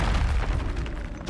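Bombarda blasting spell exploding in the Hogwarts Legacy game, a single short loud boom with a rumbling tail.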